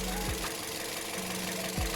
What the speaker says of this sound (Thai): สำหรับเสียงเครื่องยนต์นะครับนิ่ง ๆ เลยครับ